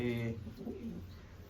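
A low, soft coo from a female pigeon sounds close by at the start, a brief throaty call that fades into quiet background.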